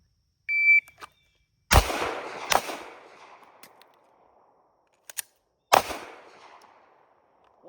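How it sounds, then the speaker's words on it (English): Sharp pistol shots during an emergency reload drill at a range: one sharp report near the start, then a pair of loud cracks with ringing decay, a small click, and a final shot, spaced by pauses of a few seconds. "I almost forgot to fire another shot on the transition"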